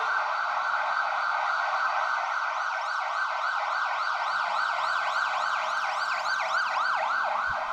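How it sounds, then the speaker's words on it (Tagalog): An ambulance siren wails steadily through the whole stretch on a rainy night, its rising and falling sweeps repeating at an even pace, loud and continuous over a wet background hiss. "Maririnig ang tunog ng ambulansya."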